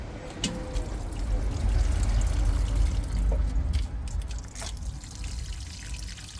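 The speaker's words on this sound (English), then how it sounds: "So I'm going to let that drain through and then I'll give them another soak." Water drains and trickles through potted chilli plants after a soak, a close, steady run of dripping and pouring that fades slightly toward the end.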